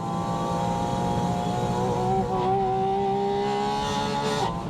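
A Porsche 718 Spyder RS drives along, its engine giving a steady, tonal drone whose pitch slowly shifts as it pulls. The sound is clear and close, with no speech.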